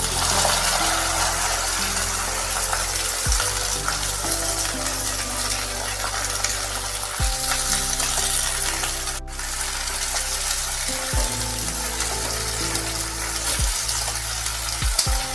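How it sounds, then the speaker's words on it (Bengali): Washed flat beans go into hot mustard oil tempered with mustard seeds, producing a loud, continuous close-up sizzle and crackle with occasional light clinks from stirring. "সর্ষে একটু ভালোভাবে নেড়ে নিয়ে ধুয়ে রাখা শিমগুলো আমি এবার দিয়ে দিই"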